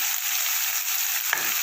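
Green chillies sautéing in a hot pan, a steady close hiss of frying with one brief louder stir or clink near the end.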